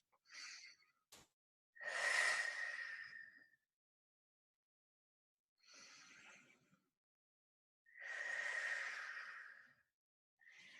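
Slow deep breaths during a child's pose in a stretching class, heard as a few long, airy inhales and exhales separated by silent gaps, close and with no talk.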